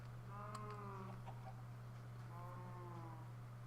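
A chicken in the Minecraft Feed the Beast modpack clucks in two short bursts, faint over a steady low hum with no talking.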